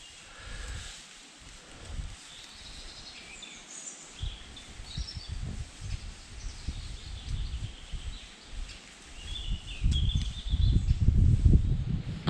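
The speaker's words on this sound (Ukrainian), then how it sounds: "птахи так співають." Several birds call and sing in a dry forest, their chirps and short phrases fairly faint and spread across the clip, over rustling leaves and low shuffling footsteps that grow louder near the end.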